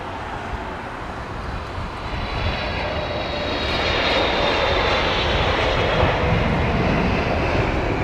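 An airliner lands at London Heathrow without thrust reversers, its jet engines a loud broad roar that swells and holds steady, with no voices.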